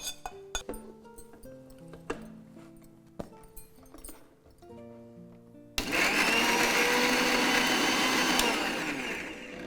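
Onion and brinjal chopped in a kitchen mixer grinder: first several short pulsed bursts and clinks of the jar, then a loud, steady, close whirring grind running for several seconds without talk.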